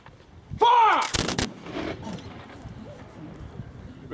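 A volley of musket fire from a line of reenactors at a Napoleonic battle reenactment, the Battle of Salamanca, a loud crackling burst of near-simultaneous shots that rings out and tails off into outdoor ambience.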